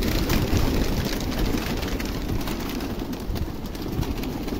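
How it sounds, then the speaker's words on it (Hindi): Pigeons in a loft, their soft cooing and wing flutters mixed into a steady low engine-like hum in the background, with no voices. "कबूतर हमारे काफ़ी एक्टिव हो गए हैं पहले से"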